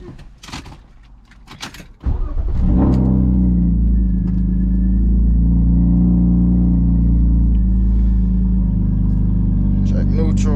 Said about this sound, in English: The cold start is just insane.